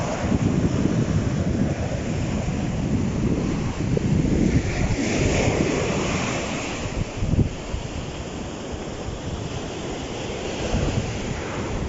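Strong ocean waves crash and surge continuously, a loud, rumbling surf with heavy wind buffeting the microphone and no voices.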